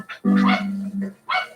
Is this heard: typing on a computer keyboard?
no